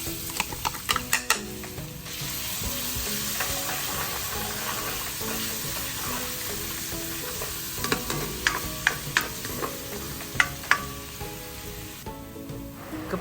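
A whole head of garlic sautéing in oil: a loud, continuous hiss of frying, with clinks and scrapes of a utensil against the pan at the start and again near the end, and no one speaking.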